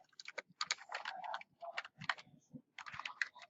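Quick bursts of keystrokes on a computer keyboard as a word is typed, close and crisp, in short clusters with brief pauses between them.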